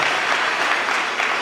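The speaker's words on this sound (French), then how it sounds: "Applaudissez-le s'il vous plaît." A youth conference audience in Kasaï Oriental claps loudly and continuously, a dense, even burst of applause close by with no pauses.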